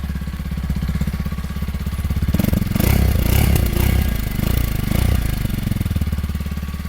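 A Kawasaki KLX 230 dirt bike idles with a steady low thump, then is revved hard twice, the exhaust note swelling loud and rough before dropping back to idle; no talk.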